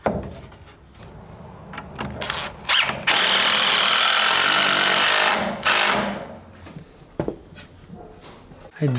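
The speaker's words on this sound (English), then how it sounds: "This is thick metal, so I've been pre-drilling the holes." A power drill bores pilot holes through thick sheet metal for a ridge cap on a sheep mineral feeder, with a long sustained loud whine in the middle and shorter bursts before and after.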